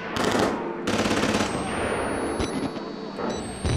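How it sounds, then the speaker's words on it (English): Video game gunfire in an asylum setting: loud dense bursts of automatic shots fill the clip, with a short gap near one second and a high electronic tone running through the later part. "Oh, they have guns."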